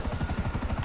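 Helicopter in a video game, its rotor beating in a fast, steady rhythmic chop, loud and close, with no talk.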